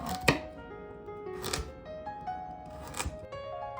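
Three sharp knife chops through carrots land on a cutting board, spaced about a second apart, with quiet kitchen background between them.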